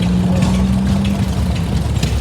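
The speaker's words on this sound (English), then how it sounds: "This tractor here was the first 6-speed John Deere B." The first six-speed John Deere B tractor runs during a parade of power, its engine giving a steady, close chugging drone with a faint tonal hum running through it.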